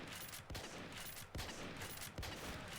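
Rapid gunfire from Call of Duty Modern Warfare 3 rattles in bursts, with sharp repeated shots and distinct louder cracks near the half-second, 1.3-second and 2.2-second marks.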